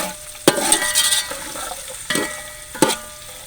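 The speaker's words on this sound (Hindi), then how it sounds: "इसे हम हल्की आंच पर थोड़ा सा पकाएंगे" Almonds, raisins, pistachios and coconut cook on low heat for mutanjan sweet rice, a steady soft sizzle with a few sharp spoon scrapes and stirring knocks.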